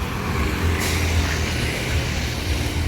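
A road bus rumbles into an Indonesian bus stop, its engine a steady low drone under broadband traffic noise, with a short hiss near the start that could be air brakes.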